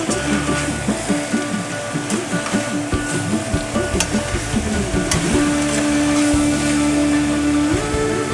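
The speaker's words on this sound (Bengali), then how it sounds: "একটু নাড়াচাড়া করে নিলাম।" Chicken frying in a pan with black pepper, stirred with a spoon, a loud close sizzle with rapid clattering scrapes that settles into a steadier hiss, with no one speaking.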